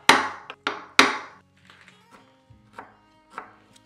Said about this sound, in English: ready to take the blunt force of this chisel once we start really hammering down on it